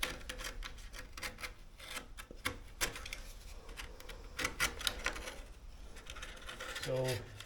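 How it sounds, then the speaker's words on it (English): A knife scrapes and shaves the rough cut edge of a plastic deck vent in quick, uneven strokes, close and fairly quiet with a steady background hiss, a brief voice near the end. "You can actually clean this up very easily with a knife."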